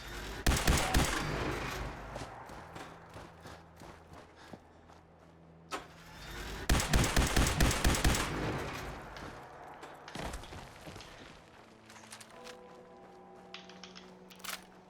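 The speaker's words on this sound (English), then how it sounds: "Ooh, I got the Gatling laser." Gatling laser from Fallout 4 firing in rapid sustained bursts, loud dense rattling volleys with pauses between, mixed with game engine and impact sounds.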